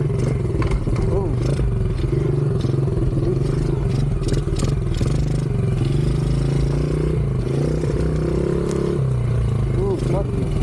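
A 70cc pit bike struggling through deep mud, its engine revving and sputtering continuously with a carburetor that runs off, loud and close with clattering and splashing throughout, while a person talks over it.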